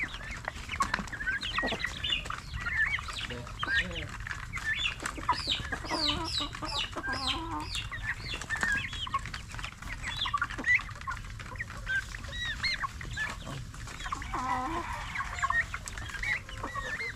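Broiler chickens clucking and squawking continuously, several birds close by in a busy farmyard with a steady low background hum.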